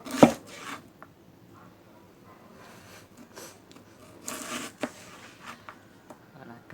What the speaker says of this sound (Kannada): ಮಾಸ್ಟರ್ ಶೆಫ್ ಕಟ್ ಮಾಡ್ತಾ ಇದ್ದೀನಿ